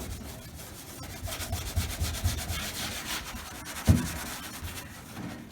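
A scouring pad scrubs peeling clear coat on a car body, steady close-up rasping strokes repeating in a loose rhythm, with one sharper knock near the end and no talking.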